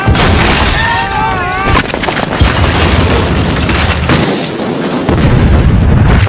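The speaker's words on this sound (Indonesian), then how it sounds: "Namun di sana justru mereka malah dihujani artileri Jerman" German artillery shelling in a war film, with heavy booming explosions and rumbling blasts filling the scene loudly, alongside shouting voices and narration.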